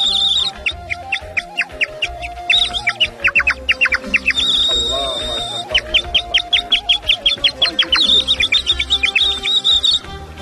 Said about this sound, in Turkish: Antalya bülbülü efendim.